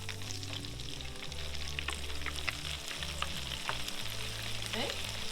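Blue crab appetizer frying in oil, a quiet steady bubbling and sizzle with faint low hum and a few small clicks.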